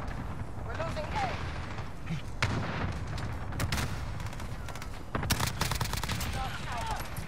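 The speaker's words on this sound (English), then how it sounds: "Allied cluster strike inbound." Cluster strike explosions in Call of Duty Modern Warfare gameplay: repeated booming blasts and crackling gunfire in rapid bursts over a dense rumbling battle bed, with voices talking throughout.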